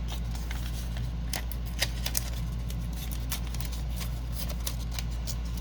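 Scissors cutting along the edges of paper scraps, soft snipping clicks at an irregular pace over a low steady background hum, quiet and close.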